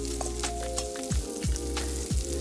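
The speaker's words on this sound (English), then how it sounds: "Right into that super hot skillet it goes. And in go the onion and the shiitake mushrooms." Onion and shiitake mushrooms sizzle in butter in a very hot skillet for a stir-fry, giving a close, steady crackling hiss with a few low thumps and tonal hums over it, no voices.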